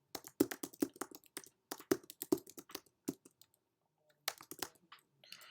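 Quick bursts of keystrokes on a computer keyboard while entering HTML text, crisp close clacks in uneven runs separated by short pauses, with no talk.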